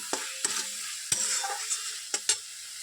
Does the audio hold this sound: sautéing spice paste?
yes